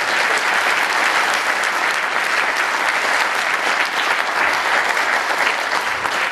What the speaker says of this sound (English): How about another round of applause for those fine young men and women from the Junction City Middle School Blue Jay Battalion Junior ROTC